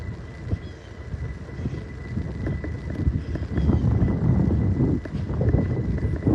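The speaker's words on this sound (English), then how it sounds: "Boy, it is breezy. That wind coming out of the... feels like it's coming out of the west, maybe northwest a little bit." Breezy west to northwest wind on a beach in North Naples, Florida, roars steadily into the microphone as a low, gusting rumble that swells louder toward the end, with no voices.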